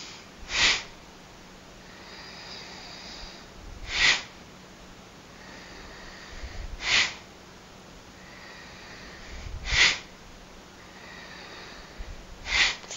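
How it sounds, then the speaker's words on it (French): Forceful yoga breathing with slow inhales and sharp, strong nasal exhales repeats five times at steady intervals of about three seconds, close and clear, with no speech. "on inspire vers l'avant et on expire avec beaucoup de force en arrière"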